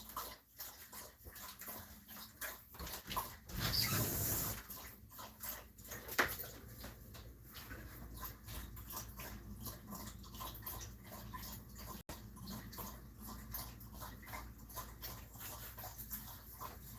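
A thirsty dog laps water quickly and steadily, a close, rapid rhythmic series of wet splashy laps that runs almost unbroken, with a brief louder splash partway through.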